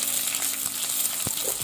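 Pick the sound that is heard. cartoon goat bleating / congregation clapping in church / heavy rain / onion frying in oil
onion frying in oil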